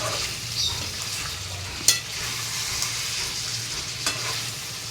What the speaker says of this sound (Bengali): আলুগুলো দিয়ে একটু নাড়াচাড়া করব আলুগুলো তাহলে একটু নুন মশলা ঢুকে যাবে